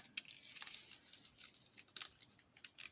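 Soft snipping and crinkling of scissors cutting through a plastic Latvian field ration packet, quiet and close, a few irregular cuts with no talking.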